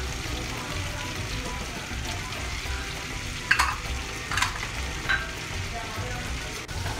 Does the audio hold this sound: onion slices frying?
yes